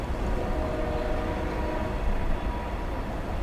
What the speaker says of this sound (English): I'm hearing the train. Hold on, I'm hearing the train.